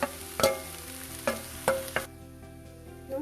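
A spatula scrapes and knocks through Manchurian fried rice in a pan, several sharp irregular strikes over a soft sizzle that drops away near the end, close and moderately loud with no voices.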